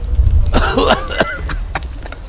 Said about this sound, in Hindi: अचानक से उनमें से एक आदमी को जोर से खांसी आने लगती है